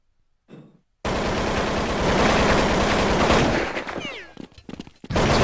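A sustained spray of automatic gunfire in Counter-Strike on the de_train map bursts in loud and close after a short silence, then breaks into scattered shots and a few clicks.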